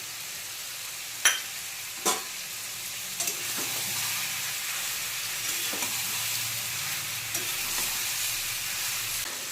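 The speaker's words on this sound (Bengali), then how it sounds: "জলটা শুকিয়ে গেলে আমি আস্তে আস্তে একটা একটা মশলা দিয়ে তারপরে ভাজবো জিনিসটাকে" Spices and ginger fry in a pan for a watermelon and papaya curry, a steady close sizzle throughout with a few sharp clinks of a spoon or utensil early on.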